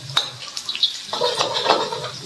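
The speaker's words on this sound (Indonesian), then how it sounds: "Kita terus menggoreng-menggoreng bahan-bahan dan rempah ratusnya." Chilies, spices and other ingredients for nasi goreng with dabai fruit fry in a pan, with a soft sizzle under clinking stirs and scrapes of a utensil against the pan, close and steady.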